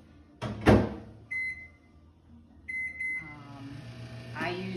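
Microwave oven heating a bowl of oatmeal: a door thump, then two short runs of clear electronic beeps over a low running hum, with a faint voice in the background.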